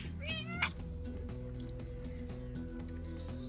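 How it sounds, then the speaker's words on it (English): A pet cat named Kika gives one sharp, close meow, rising and wavering, over a steady background of game music. "Cat's being weird."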